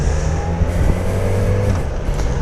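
A car overtaking on the right, heard from inside another moving car: a steady, loud engine and road drone with a rising rev as the vehicle passes close alongside, no talking.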